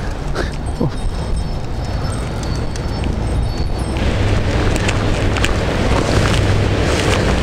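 Heavy wind buffets the microphone in a constant low roar that grows stronger partway through, with faint knocks and clicks underneath.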